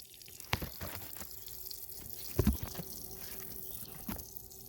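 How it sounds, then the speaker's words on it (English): Water runs from an enlarged hole in a garden pipe into a container garden, a quiet continuous trickle with a few soft splashes and knocks, no voices. "So I got a good flow of water coming out of there."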